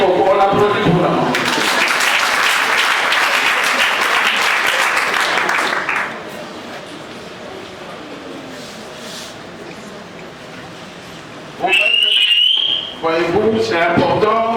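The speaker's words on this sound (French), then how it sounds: "On applaudit pour la main." Audience applause at a women's month closing ceremony: loud, dense clapping for several seconds, then a lull of crowd murmur and voices, before a second short burst of clapping and cheering near the end.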